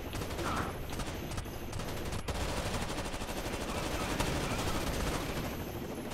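Automatic gunfire in Rainbow Six Vegas, a continuous dense rattle of rapid shots filling the whole stretch at steady loudness, with no talking heard over it.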